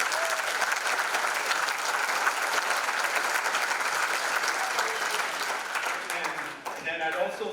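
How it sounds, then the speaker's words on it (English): Sustained audience applause at an awards ceremony, a dense steady clapping from a large crowd in a function room, continuing for several seconds before thinning slightly near the end. "Give them all a round of applause, please."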